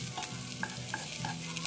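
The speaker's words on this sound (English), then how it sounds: "Get that garlic nice and toasty." Garlic and seasonings sizzle steadily in a pan for a meat sauce, with a spoon stirring and scraping in short repeated strokes, close and fairly loud with no talking.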